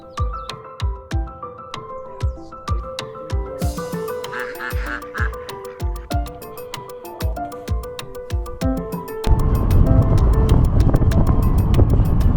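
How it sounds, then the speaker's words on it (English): Ducks in Tlaxcala, Mexico quack in a quick, regular series of close, loud calls, then heavy wind buffeting the microphone takes over near the end. "let's go play with the ducks"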